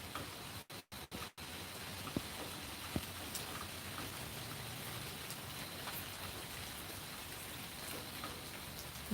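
Rain falls at night in the Georgia countryside as a steady, soft, even hiss, faint and constant, with a few tiny drip ticks and brief dropouts near the start.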